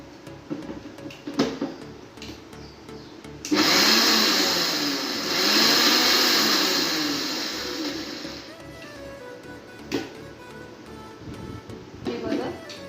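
A kitchen mixer grinds peanuts and green chillies in a loud, whirring burst of about five seconds that swells and then cuts off. Quieter clatter comes before and after it.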